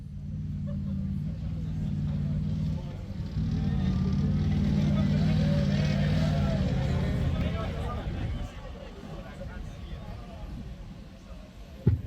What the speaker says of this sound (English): Watch as it demonstrates the Hunter's excellent maneuverability.